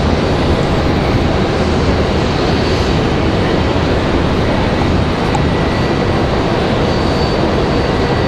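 A loud, unbroken jet roar from an American Airlines airliner landing at Raleigh-Durham after a flight from Los Angeles, close and dense, holding at full strength throughout.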